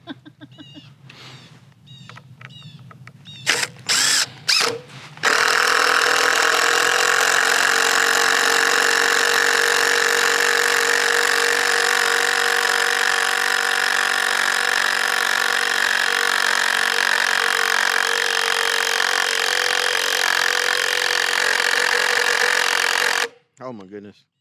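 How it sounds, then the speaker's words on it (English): A handheld grinder grinds off a stuck square-head screw in red oak, kicking in after some clattering and then whining loud and sustained for nearly twenty seconds before cutting off abruptly. "Now you got to take the grinder and grind it off."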